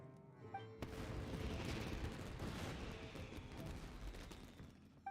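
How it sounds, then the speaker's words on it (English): Fireworks bursting in the video game Genshin Impact, a sudden boom followed by a dense, crackling roll of sparkling pops and rumble that fades slowly, with no talking. "this is turning into a bit of a fireworks display"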